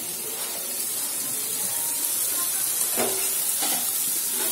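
Finely chopped tomato drops into frying masala for an aloo baingan sabji, setting off a loud, close, continuous sizzle that swells near the end with a couple of sharper bursts, with no voices.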